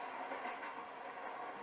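Train ride in the zombies mode of Call of Duty: Black Ops III, Shadows of Evil, a steady close rumble of a moving rail car with a faint rhythmic clatter, continuous and unbroken.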